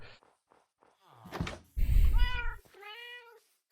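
Cats meowing in the Minecraft video game: a couple of clear, loud meows in quick succession alongside a low thump, with no talk over them.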